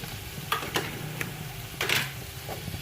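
Chopped onions go into a hot pan for chicken chilli, giving a low, steady frying sizzle with a few sharp stirring scrapes and clinks of a utensil, close up and without talk.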